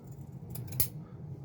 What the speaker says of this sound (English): Next, we cut a little sliver off of the scouring pad